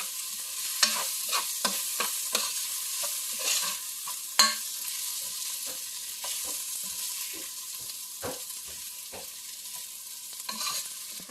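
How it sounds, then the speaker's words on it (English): Garlic, onion and ginger sauté in a pan, giving a steady loud sizzle broken by repeated scraping stirs of a utensil at an uneven rhythm, with no voices. "we're gonna saute that and make sure that it's golden brown"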